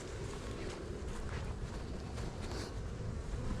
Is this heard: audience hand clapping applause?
no